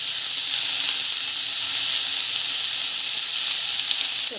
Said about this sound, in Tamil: ஸோ நல்லா வந்து வதக்குறேன்.